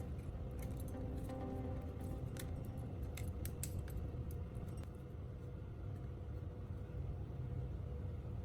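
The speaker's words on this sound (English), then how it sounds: "I trim one small corner of the circuit board so the wires can pass through without bending." Cutters snip a small corner off the circuit board of an old LED bulb, giving a few sharp clicks and crunches over a steady low background rumble.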